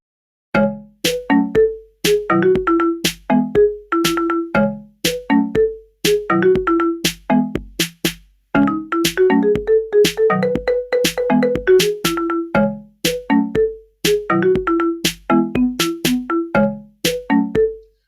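A bright, bouncy synthesized melody of short plucky notes over a steady beat, with a looping ringtone-like tune of a pop song made in Chrome Music Lab Song Maker, playing clearly and loudly throughout.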